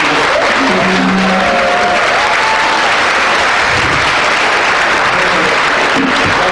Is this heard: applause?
yes